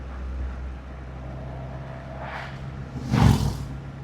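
An Acura Integra cruises along the Blue Ridge Parkway with a low, steady engine and road rumble, and a passing whoosh swells near the end as another vehicle goes by.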